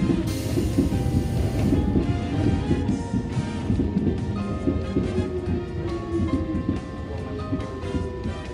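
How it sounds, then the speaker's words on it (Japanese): A Nankai 2000 series electric train passes close by with a loud, rumbling rush of wheels and motors and some ringing metallic tones, and the noise eases off as it goes by. "前方から来たのは2000系電車、白い悪魔こと都営浅草線5300型でもびっくりな大きな音です。"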